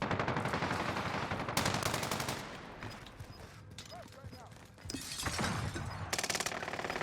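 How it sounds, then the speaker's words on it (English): Gunfire erupts in the Warzone Pacific video game as loud rapid automatic bursts and crackling shots, some stretches continuous and others broken by brief lulls, with a player talking over the action. "Oh, I'm being shot in the back."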